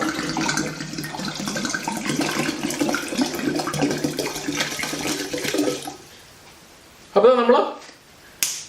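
Gin of 43 percent strength is poured into a vodka and gin cocktail in a steady, continuous liquid stream lasting about six seconds, then stops; a couple of short, sharper sounds follow near the end.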